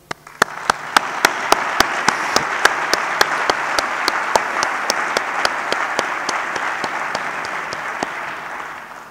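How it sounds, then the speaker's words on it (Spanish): Audience applause at a Virgen de Luna proclamation event, dense steady clapping from a large crowd, loud and close, running without a break for several seconds. "sí que te mereces mi admiración y nuestro aplauso"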